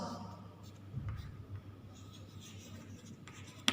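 Someone writes an answer by hand, with short, faint scratching strokes of pen or pencil on paper across a few seconds, close by and quiet.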